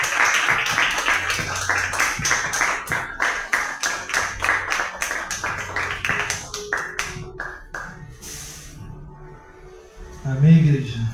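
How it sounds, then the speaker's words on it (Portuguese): A church congregation at an ICPBN service in Passarinhos claps together in a fast, even rhythm for several seconds, the claps thinning out before a voice speaks over the fading applause. "Dá uma salva de palmas ao Senhor"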